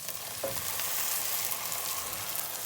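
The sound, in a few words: tomatoes added to frying garlic in a pan, sizzling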